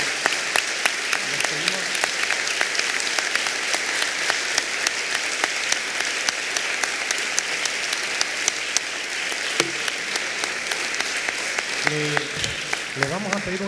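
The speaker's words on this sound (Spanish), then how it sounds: "un muy fuerte aplauso al senador Martín Lustó" An auditorium audience at a university congress closing in Buenos Aires claps continuously and loudly for the whole stretch, with a few brief voices and cheers rising near the end.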